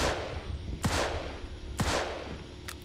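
Gunfire in the crime video game Mafia II: Definitive Edition, two sharp shots about a second apart and then a fainter third, each standing clear above a steady background hum.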